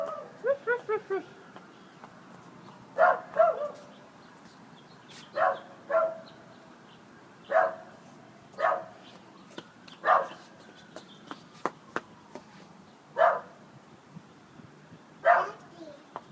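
A dog barks in short, spaced bursts of one or two yips, somewhat distant and muffled, while a child and an adult talk, and someone imitates the barking with repeated 'roof' sounds.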